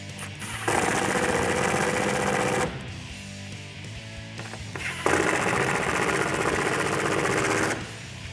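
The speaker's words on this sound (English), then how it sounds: "Grab your 8mm socket and tighten these down." A power driver with an 8mm socket runs in two long, loud, continuous rattling bursts separated by a short pause, tightening factory screws on a 2015-2017 Ford F-150 tail light.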